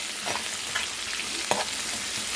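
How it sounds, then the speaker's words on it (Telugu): Curry leaves and green chillies sizzle and fry in a hot pan for a Telugu amaranth and moong dal stir-fry, a steady close crackle with a few light stirring scrapes and no voices. "కరివేపాకు, పచ్చిమిర్చి ఒక్కసారి కొంచెం అలా వేగనిద్దాం."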